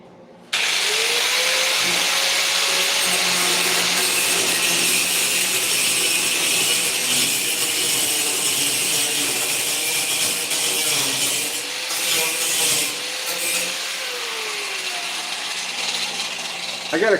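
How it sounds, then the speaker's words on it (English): A grinder runs continuously on a custom Lamborghini Terzo Millennio supercar hood, giving a loud, rough, steady roar with gliding pitch changes as the tool is worked across the metal, close by throughout. "I'm going to grab that grinder that's behind me"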